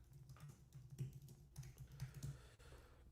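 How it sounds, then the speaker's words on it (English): Computer keyboard typing at a desk, a steady run of soft, fairly quiet key clicks over a low hum, with no voices. "Are you typing in Sabonis trade rumors?"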